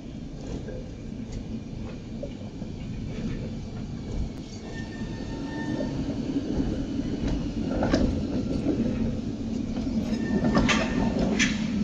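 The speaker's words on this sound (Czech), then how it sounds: "Couvající tramvaj!" A Prague tram reverses slowly with steady rumbling wheels on rails, faint metallic squeals and clanks, continuous and fairly close.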